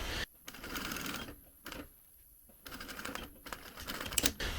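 A sewing machine topstitches a zip fly in short motorized bursts of rapid stitching, separated by brief pauses, close and fairly loud, with no talking.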